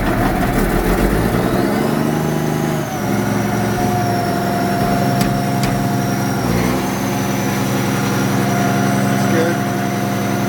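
A Case 4490 tractor engine runs loud and close right after starting, a steady heavy idling rumble with a whining tone, and people talk over it.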